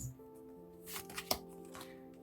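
Tarot cards being shuffled during a reading, a soft riffling that builds in the middle to a single crisp snap, quiet and close, with a faint steady tone in the background and no voices.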